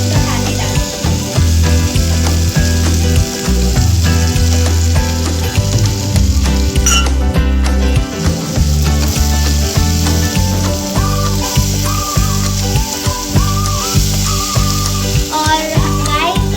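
Tomato and spice masala sizzles steadily in a pan, a dense continuous frying hiss with background music running throughout.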